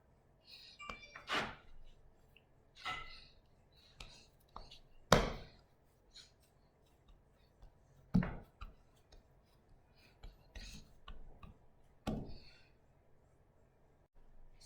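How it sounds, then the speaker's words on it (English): A knife cuts scone dough into nine pieces on a board, giving sparse, separate taps and soft thuds at irregular intervals, close and fairly quiet, with light clicks between them. "cut it into 9 equal pieces with a knife"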